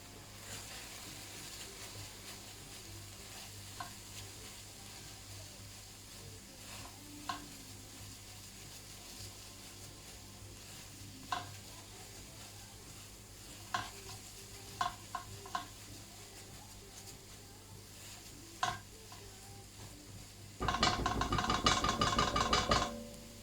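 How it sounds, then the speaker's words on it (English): Turmeric, garam masala and spices stirred in a hot pan for a beef phall, a steady low sizzle with occasional spoon taps against the pan, ending in a louder, denser burst of frying and scraping. "Give that a bit of a good stir."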